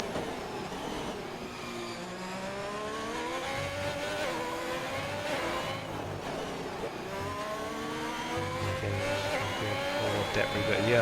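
F1 2021 racing car engine wailing through repeated upshifts and downshifts as it slides through corners, a continuous high-pitched whine with rising sweeps under a commentator's voice.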